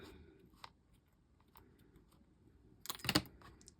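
Scissors snip through binding thread on a handmade junk journal, a quick cluster of two or three sharp cuts near the end after a quiet stretch of faint handling.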